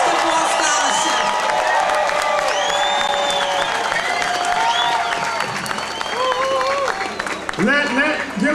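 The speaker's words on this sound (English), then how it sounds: "can I get a loud round of applause" Loud, sustained applause and cheering from a rally crowd in Staten Island, dense clapping with whoops and shouts running through the whole stretch without a break.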